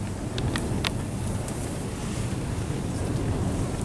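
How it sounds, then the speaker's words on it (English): Strong wind of about 25 miles per hour buffeting the microphone in a low, constant rumble, with a few faint high clicks near the start. "it is super windy. It's like 25 mile an hour winds here."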